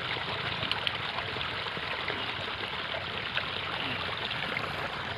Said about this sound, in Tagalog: Patubig ng sibuyas.